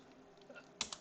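Keyboard typing while coding a Python pygame room game, heard as a few quiet key clicks followed by two sharper, closer keystrokes near the end, with no talking.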